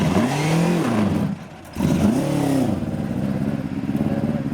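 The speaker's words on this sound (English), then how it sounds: "We've got a Mark I Escort that has just started up unloading from the trailer" A Ford Mark I Escort race car, just started while being unloaded from a trailer at a track event, revs loudly and close by: two rising-and-falling revs, then a rough, lumpy idle.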